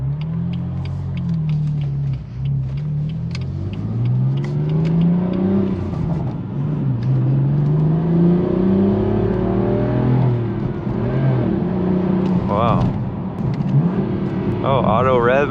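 A BMW M4 F82 engine revving through gear changes with automatic rev matching, rising and falling rumble, small backfire pops near the end, heard from inside the car with someone talking over it.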